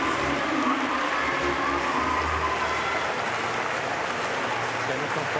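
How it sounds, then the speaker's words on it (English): Home crowd gives a sustained ovation and steady applause to Paralympic weightlifter Axel Bourlon as he walks off after the men's up to 54kg final in Paris, a dense continuous roar of clapping and cheering throughout. "he's walking off to the ovation of his home crowd"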